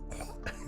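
A single short, close cough from a person working at a puzzle, brief and rough.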